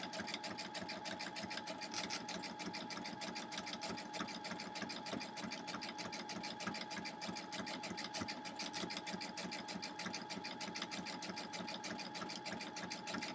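A sewing machine runs steadily and evenly for the whole stretch, stitching a quilt block through the batting with a constant rapid needle rhythm and no talk.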